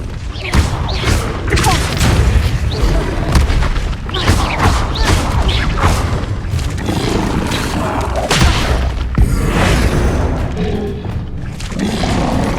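Bombarda blasting spells in Hogwarts Legacy explode in repeated loud booms and thuds amid combat effects, with a voice shouting spell names over the blasts.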